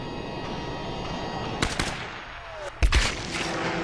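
Sniper rifle gunfire in Tomb Raider 2013, two sharp, loud cracks about a second apart standing out over a steady bed of in-game battle noise, with no voices.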